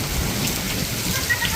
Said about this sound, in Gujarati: તો મિત્રો નવસારીમાં જોરદાર વરસાદ થયો છે